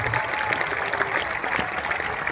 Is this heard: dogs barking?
no